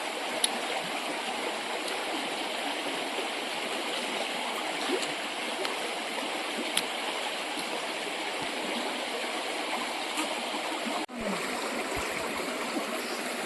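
The Shiv river in Arunachal Pradesh flows in a steady, full rush of water that holds even and loud throughout, with a few small splashes and one brief knock near the end, and no voices.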